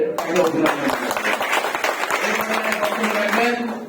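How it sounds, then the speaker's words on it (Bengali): Audience applause at a Bangladesh Sanatan Party political gathering, a dense steady patter of many hands clapping continuously, with crowd murmur and some voices mixed in throughout. "বাংলাদেশ সনাতন পার্টির পক্ষ থেকে তাকে আমরা আবারও করতালি দিয়ে"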